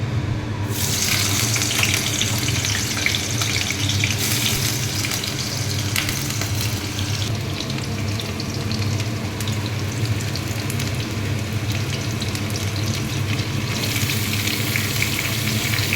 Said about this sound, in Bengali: তেলটা গরম হয়ে গেছে। তো আলুগুলোকে এখন আমি প্রথমে ভেজে নেব।